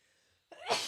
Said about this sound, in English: oh my God, I'm going to sneeze